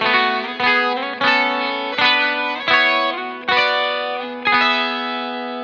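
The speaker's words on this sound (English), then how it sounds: "I'm going to play it slowly, just so you can hear the voicings are really cool." Electric guitar chord voicings through a Dimension C chorus effect, played slowly: about eight shimmering strummed chords, each left to ring and fade before the next, alone and with no talking.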